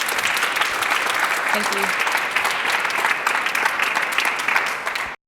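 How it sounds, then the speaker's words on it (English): Audience applause at a re:publica 2019 talk on re-animating the archive, a thick continuous wash of clapping that carries on evenly throughout, with a brief spoken thanks under it. "applause again for you too"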